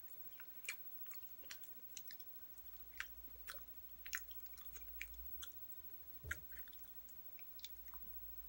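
Soft, close chewing of partly cooked food during a meal, with irregular wet bites and crunches spaced over several seconds at low volume and no talk.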